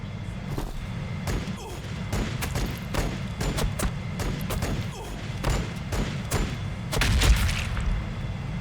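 Grenade explosions in the video game Warhammer Battlesector, a dense run of thumping blasts and crackling impacts rolling through a loud battle mix, with the heaviest boom near the end.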